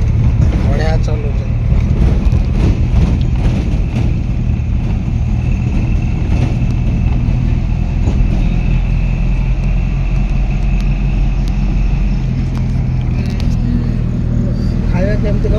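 A new car is driven along the road, its loud, continuous engine rumble and road noise steady throughout, with voices talking over it.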